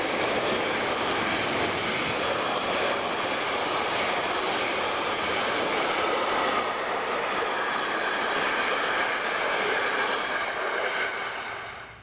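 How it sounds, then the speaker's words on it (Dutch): A TX Logistics freight train runs from Kufstein toward Munich through Bavaria, slowed by a speed restriction. It makes a loud, continuous rolling roar of wagons passing close by for about twelve seconds, then begins to fade at the very end. "Waar we een trein van TX Logistics zien komen vanuit Kufstein."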